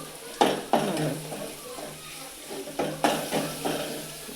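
Cluster beans coated in masala are stirred in a pan, with several distinct utensil scrapes against the metal and a soft sizzle running underneath, close and moderately loud.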